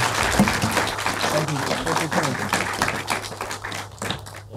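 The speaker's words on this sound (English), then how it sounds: "Can we all give her a round of applause?" An audience claps and applauds through the whole stretch, a dense run of hand claps that thins slightly toward the end, with voices talking over it.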